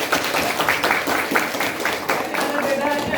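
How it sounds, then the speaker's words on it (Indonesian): Applause from a class audience in a classroom, a dense burst of many hands clapping together close by, holding steady and fairly loud for several seconds. "Boleh tepuk tangan?"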